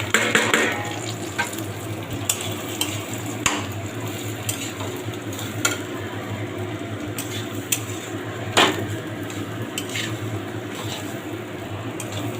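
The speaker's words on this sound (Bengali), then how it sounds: "চালটা তেলের মধ্যে 5 মিনিট ভেজে নেব।" Rice being fried in oil in a pan for Bengali basanti pulao, a soft steady sizzle with occasional sharp scrapes and clinks of a spoon stirring against the metal pan, close and fairly quiet.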